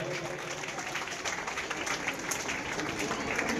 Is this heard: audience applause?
yes